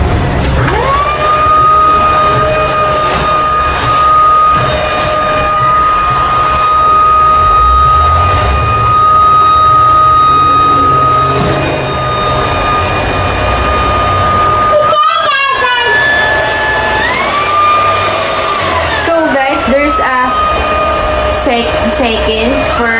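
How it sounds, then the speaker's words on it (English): A Tineco Pwrhero 11 cordless vacuum runs with a steady, loud motorized whine and high tonal hum, shifting pitch briefly near the end as power settings change. "So we're gonna test the vacuum right now."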